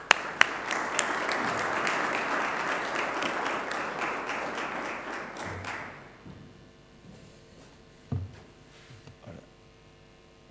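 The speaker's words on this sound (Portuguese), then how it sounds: "Chamava ao palco José Pedro Sousa, para quem pediu um aplauso." Applause from a debate audience fills the first six seconds, dense and steady, then breaks off into a quiet room with a few scattered taps and thumps.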